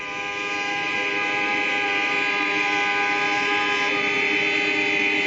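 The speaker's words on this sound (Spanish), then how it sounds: "Después protestan a bocinazos." Car horns blare in protest on a Berlin street, a sustained, loud and steady honking chorus that holds without break and rises slightly at the start, with no voices audible.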